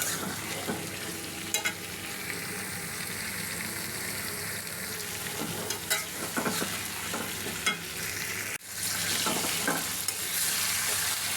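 Fried fish is stirred in spices in a pan, giving a continuous sizzle broken by repeated scraping strokes of a utensil and one sharp clatter near the end.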